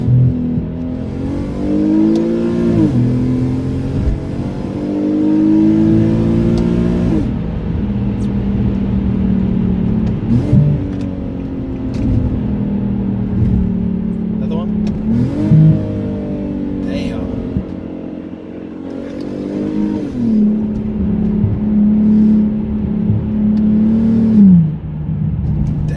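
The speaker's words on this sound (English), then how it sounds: "I can give you guys a little pull, a little downshifting in the pull." An Infiniti G37 sedan with a full straight-pipe exhaust and high-flow resonator pulls hard under load, its loud drone rising repeatedly and dropping with each downshift over a long run.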